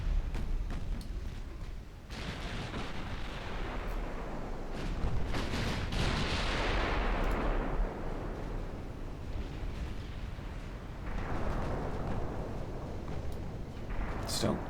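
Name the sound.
warship guns firing in a naval video game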